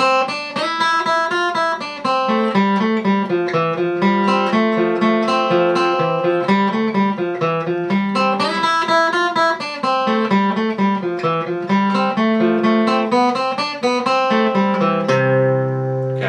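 Quick, steady picked acoustic guitar runs the fiddle tune St. Anne's Reel, notes tumbling in even rhythm, then ending on a ringing chord.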